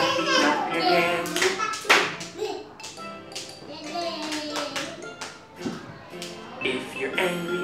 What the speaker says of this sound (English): If you're happy, happy, happy, clap your hands.